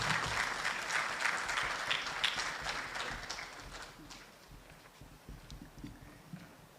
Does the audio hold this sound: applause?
yes